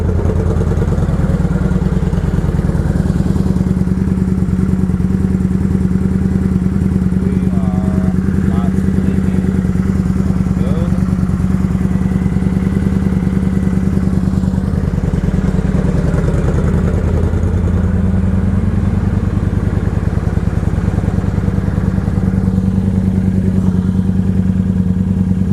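A Kawasaki Vulcan 900 motorcycle engine idles steadily and loudly up close, a low rumbling throb with some mechanical clatter, running on after a gas tank was fitted.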